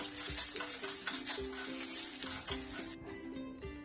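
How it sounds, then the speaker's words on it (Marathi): Finely chopped onion sizzles steadily in hot oil with a bay leaf as it is sautéed until reddish, with close, continuous frying hiss and repeated scrapes of a stirring spoon against the pan. "नंतर त्यामध्ये आपण कांदा घालूया बारीक चिरलेला आणि चांगला लालसर असा आपण परतून घेऊया तेलामध्ये।"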